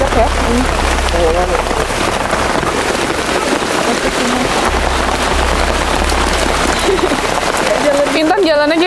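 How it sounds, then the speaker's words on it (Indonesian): Steady rain falls on a hillside path, a dense continuous wash of patter heard close around while people talk over it. "ini posisinya hujan"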